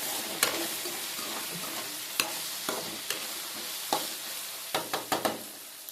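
Okra frying in a pan for a tamarind stew gives a soft, continuous sizzle, broken by sharp spoon clicks and scrapes as it is stirred, a quick cluster of them near the end.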